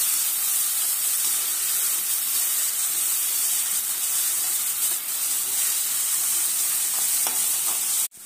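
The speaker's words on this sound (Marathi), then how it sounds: "आणि हा कढीपत्त्याचा एक ढाळा। हे चांगल्या प्रकारे आता आपण परतून घेऊ" Curry leaves sautéing in a pan while preparing a stuffed brinjal curry make a dense, even, close-up hiss and sizzle lasting throughout, cutting off abruptly at the very end.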